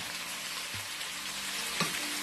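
Coarsely crushed ginger-garlic paste sizzles in a hot pan for goat head curry, a steady close hiss of frying with a brief clink near the end.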